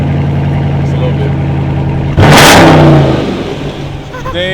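A Dodge Charger engine bursts into a loud rev, a sudden roar that swells and then winds back down toward idle, with people talking over the running engine before and after.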